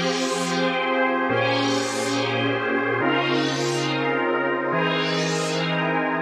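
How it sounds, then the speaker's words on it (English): Warm, sustained vintage-style keyboard chords from Arturia Analog Lab change about every second and a half, four in a row, each swelling with a shimmering, slightly echoing synth tone. "It's a vintage kind of keyboard."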